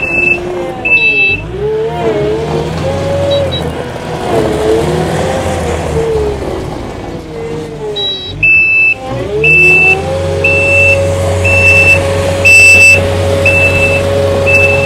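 Kubota SSV65 rubber-tire skid steer loader, a 2020 machine, its engine running and revving up and down with a steady diesel drone and repeated reversing beeps, loud and close.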